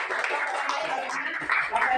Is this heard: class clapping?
yes